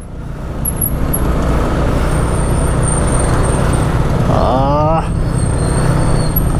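Motor vehicles including motorcycles rumble past on a nearby road, with steady loud engine noise and a brief rising whine near the end, while people talk in the background.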